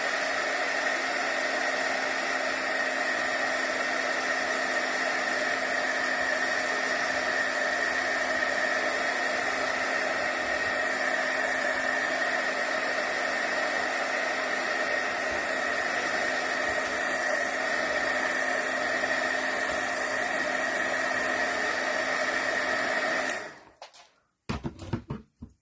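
Hair dryer blowing steadily on a craft ribbon, a loud continuous whirring hiss with a fixed motor hum that runs unbroken for over twenty seconds, then cuts off abruptly, leaving a few brief handling noises.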